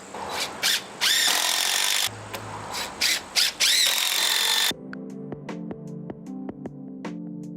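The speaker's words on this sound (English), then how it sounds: "Having some trouble with the chainsaw cutting through." A chainsaw cutting through wood in a backyard roars in several loud bursts with brief pauses, then falls silent, leaving quieter tonal sounds.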